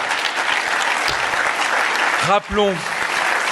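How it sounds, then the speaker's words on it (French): An audience applauds steadily throughout, loud dense clapping at a political dinner debate, with a voice briefly cutting in over it near the middle. "Ah là, vous applaudissez."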